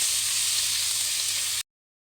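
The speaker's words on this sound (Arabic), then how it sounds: "ننزل كده بحبه فلفل الوان ونقلب" Colored bell peppers fry and are stirred in a pan, giving a steady loud close sizzle that cuts off abruptly near the end.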